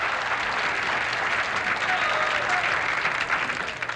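A crowd applauding at a bowling tournament, the 1985 Southern California Open, a dense, steady wash of clapping that stays loud throughout.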